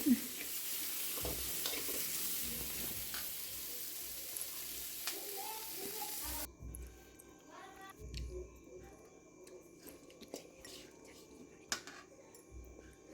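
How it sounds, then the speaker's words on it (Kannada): Ingredients fry quietly in hot oil for a sprouted-legume sambar, a soft sizzle with occasional stirring scrapes in a home kitchen. "ಫ್ರೈ ಮಾಡ್ತಾಯಿದ್ದೀನಿ ನಾನು ಸ್ವಲ್ಪ ಈ ಥರ ಟೇಸ್ಟಾಗಿ ಒಂದು ಸಲ ನೀವು ಟ್ರೈ ಮಾಡಿ ಎಲ್ಲ ಫ್ರೈ ಆಯಿತು ಎಣ್ಣೆಯಲ್ಲಿ"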